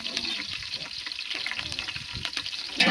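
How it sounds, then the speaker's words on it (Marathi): Green chillies sautéing in hot oil with curry leaves for masale bhat, a steady close sizzle with faint scraping of a spatula, no voices. "छान असं परतून घ्यायचं आपल्याला."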